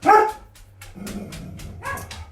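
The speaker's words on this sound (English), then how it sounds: "don't mind the dogs" Dogs, including a black Labrador mix, barking indoors: several sharp barks in quick succession, with whimpers and yips between them, close and loud, with no talking.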